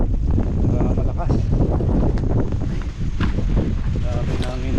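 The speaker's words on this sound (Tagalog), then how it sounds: "bumira yung hangin. Malakas." Strong wind roars and buffets steadily against the microphone at a high-peak campsite, a constant rushing noise with a voice faintly underneath.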